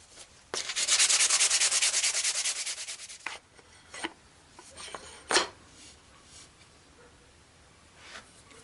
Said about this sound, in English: I think we're ready to start sanding now.